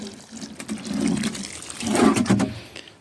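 Water is poured onto tomato seedlings in a small greenhouse, making a soft gurgling, trickling splash that swells twice as the stream hits the soil, close and moderately loud.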